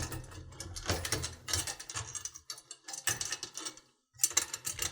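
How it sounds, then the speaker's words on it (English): Metal rim fitted back onto a snare drum, close metallic clanks, scrapes and small ratcheting clicks in irregular bursts with brief pauses between them. "Throw this rim back on."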